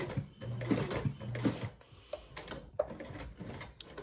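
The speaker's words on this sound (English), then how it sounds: "I'm going to go ahead and sew my other part of my box stitch" A sewing machine runs a box stitch with a 3/16-inch stitch, close uneven bursts of fast mechanical whirring and ticking separated by short pauses and clicks.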